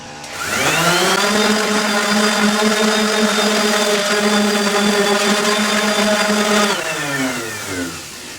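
A power sander spins up on a cabinet drawer face, holds a loud steady whine for several seconds, then winds down, close by with no talking.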